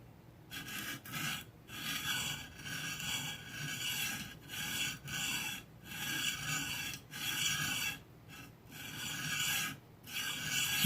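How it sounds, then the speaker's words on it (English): A karambit knife blade is being sharpened with repeated rasping strokes, each a gritty scraping pass followed by a brief pause, in an even rhythm, close up and fairly quiet with no talking. "now I can go ahead and get to work and sharpen that blade"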